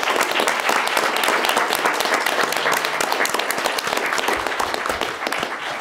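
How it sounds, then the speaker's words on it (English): Applause at a public school board meeting in Las Cruces, a room full of people clapping steadily and densely for several seconds with little talk. "I think he deserves a round of applause."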